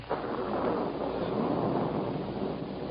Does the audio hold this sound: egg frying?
no